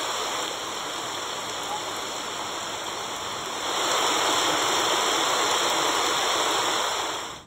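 Floodwater rushes after heavy monsoon downpours in Raigad, a dense, loud, continuous roar of churning water that swells stronger midway and fades at the end.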